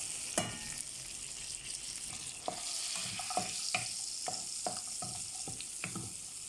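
Whole spices frying in butter in a pan, a steady sizzle broken by frequent clicks and taps of stirring, close and fairly loud throughout.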